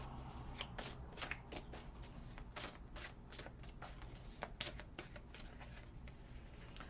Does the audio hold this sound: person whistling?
no